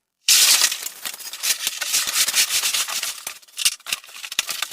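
Water heater dragged across scraps of plasterboard and polystyrene laid on a floor, a loud gritty scraping and rubbing that starts abruptly and continues in uneven pushes with short creaks and dips.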